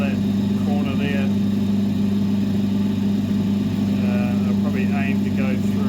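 A saw slices an Andamooka crystal opal stone with a steady, droning motor hum and a constant whine under brief talking.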